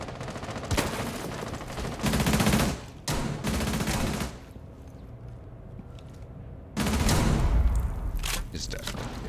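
Bursts of rapid gunfire in a tactical shooter video game, fired through a wall, come in loud clustered volleys separated by brief quieter gaps, close and dominant, with no talking.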